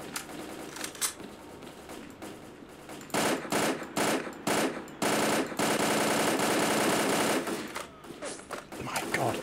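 Rapid automatic gunfire from a gun in STALKER Clear Sky, loud bursts of repeated shots with brief pauses, several sustained volleys in a row, with faint talk beneath.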